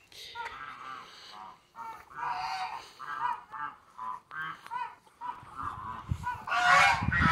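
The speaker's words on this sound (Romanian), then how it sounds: "gâștele v-am spus că sunt două gâște și doi gânsaci" Several geese honk repeatedly in loud, overlapping calls, building to a noisy burst of honking near the end.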